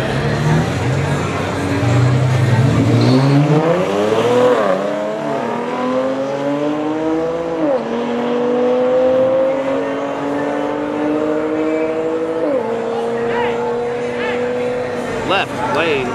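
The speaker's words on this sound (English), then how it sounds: "Everybody's just lining up and racing." A car at a Yello Belly Drag Strip race night roars off the line and keeps accelerating, its engine note climbing through several gear changes in a long, loud pull, with people talking nearby.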